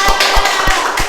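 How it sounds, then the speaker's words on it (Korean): A group of children claps together in a church children's service, a short burst of quick, fairly loud, rhythmic hand claps at close range. "우리 여기 있는 친구들이 김선민 친구를 위해 잠깐 박수 한번 쳐줄까요?"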